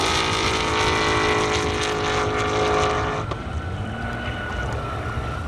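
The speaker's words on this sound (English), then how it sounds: "Launch mode engaged on the Cookie Monster Blue Mustang." A blue Ford Mustang drag car launches at an airstrip drag event, its engine holding a loud, strained, sustained roar before cutting off abruptly partway through, leaving lower residual noise.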